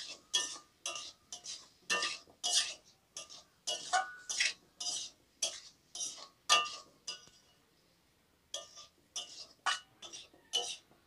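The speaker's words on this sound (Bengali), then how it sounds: "আলুটাকে ভালো করে মশলার সঙ্গে মিশিয়ে নেব।" Potatoes being stirred with spices in a pan for a Bengali ridge gourd (jhinga) vegetable dish, a rhythmic series of scraping spatula strokes against metal, clear and close, pausing briefly before resuming.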